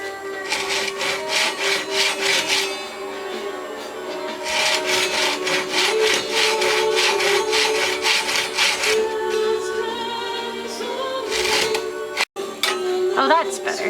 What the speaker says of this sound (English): we're getting ready to drill these straws